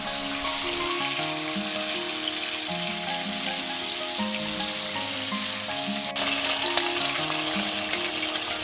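Beef short ribs searing in a Dutch oven give off a steady, dense sizzle that holds at one level, then jumps a little louder near the end, with no talking over it.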